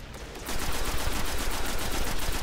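Rapid automatic gunfire from the video game Destiny, a dense, loud stream of fast rhythmic shots bursting in after a quiet moment and continuing without pause.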